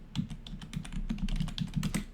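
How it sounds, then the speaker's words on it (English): Typing on a computer keyboard to enter text in a WordPress site, a brisk uneven burst of close, crisp key clicks with low thumps under each press, alone with no voices. "I'm going to type it in here."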